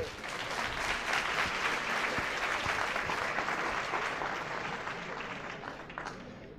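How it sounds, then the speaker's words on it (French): An audience at a lecture on emergency medicine applauds steadily for several seconds, a dense wash of many hands that slowly fades toward the end. "Vous pouvez applaudir Odile."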